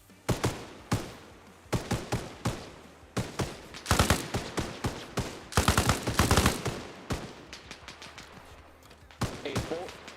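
Squad gunfire in the video game Arma Reforger: repeated bursts and single shots crack in irregular clusters, some near and loud, others quieter, filling the stretch with overlapping volleys.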